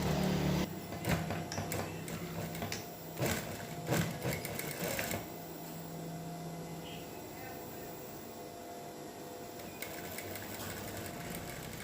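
A sewing machine stitching a shirt collar runs steadily, its motor whirring and needle rattling in a continuous buzz, with brief starts and stops early on and some faint background noise.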